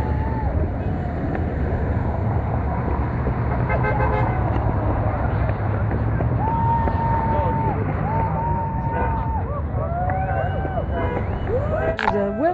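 A car horn honks near a parking lot during a street protest, the toots rising over heavy wind noise and crowd talk, with several short blasts clustered in the second half.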